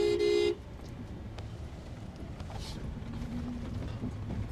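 A vehicle horn gives one short, loud toot at the start, then fades into faint outdoor wind and rumble.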